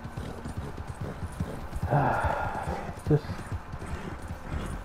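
Horse hooves galloping in Red Dead Redemption 2, a fast steady clip-clop rhythm running throughout at moderate loudness, with someone talking briefly over it.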